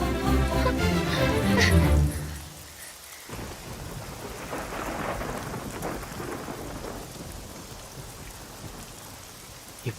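Rain falls steadily with thunder, loud and full at first and then settling into an even hiss of rain on surfaces with low rumbles underneath.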